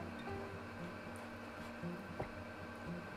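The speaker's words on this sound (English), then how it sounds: "Sorry if you can hear the air conditioner behind me." Steady air conditioner hum in a home kitchen during sourdough hamburger bun mixing, a quiet continuous drone with faint tonal whine and small clunks, no talking.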